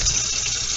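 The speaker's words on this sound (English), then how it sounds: "So I'm going to put water in this pot" Water pours steadily into a cooking pot, a continuous splashing gush with no voices, close and fairly loud for under a second.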